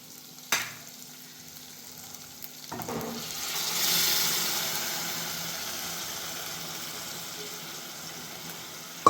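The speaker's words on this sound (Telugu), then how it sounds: "ఇప్పుడు మనం కలబెట్టుకున్న గోంగూర తీసి తాలింపులో వేసేసుకుందాం." Gongura leaves tipped into a hot oil tempering for gongura pickle, a sharp hiss that swells into a steady close sizzle with light stirring, with a few clunks at the start and end.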